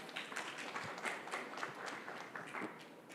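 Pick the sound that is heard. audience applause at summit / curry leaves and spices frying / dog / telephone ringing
audience applause at summit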